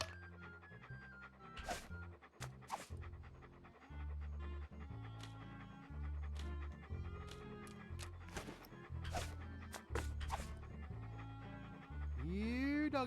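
A dog pants rapidly in Monkey Island 2: LeChuck's Revenge, its breathing mixed with the game's music, low and close throughout.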